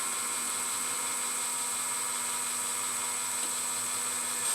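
A 3.8mm drill bores through a center hole in metal, giving a steady, thin high-pitched whine with a faint motor hum underneath, continuous and unchanging throughout.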